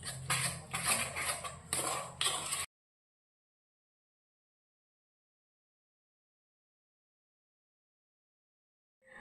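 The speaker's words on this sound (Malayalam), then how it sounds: "ആവശ്യത്തിനുള്ള വെള്ളവും കൂടെ ചേർത്ത് നമുക്ക് മിക്സ് ചെയ്തെടുക്കാം." A spoon stirs brinjal bajji batter with added water in a bowl, making quiet, rhythmic scraping and sloshing strokes for a couple of seconds, followed by silence.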